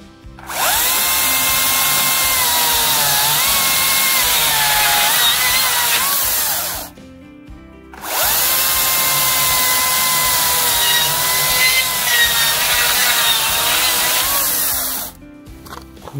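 A Makita cordless chainsaw, DUC302 or DUC356, cuts in turbo mode with two long, loud, high-pitched whining bursts of sawing, each about six to seven seconds, separated by a short pause.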